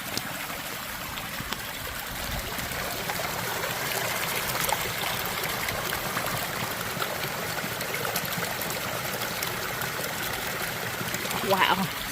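Water trickles and streams steadily from a trail water source on the Appalachian Trail as someone collects it, a continuous close babble with faint handling noises near the end.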